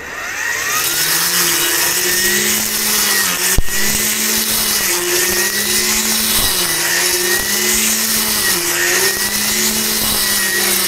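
A Japanese-made two-blade grass trimmer cuts grass, its engine droning loud and steady with a rhythmic rise and fall as the head sweeps back and forth, plus a single sharp knock partway through.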